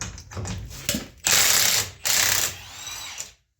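An impact wrench with a 3/4-inch drive chrome socket hammers on the axle nut of a Dana 60 axle, in two loud rattling bursts between short mechanical clicks before it cuts off.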